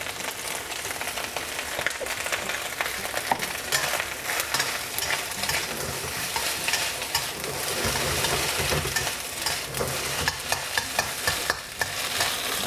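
Chinese sausage stir-frying in oil in a pan, a steady continuous sizzle with frequent scraping and stirring strokes throughout, fairly close and with no talking.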